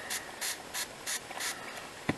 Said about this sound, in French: Mon spray devient vide.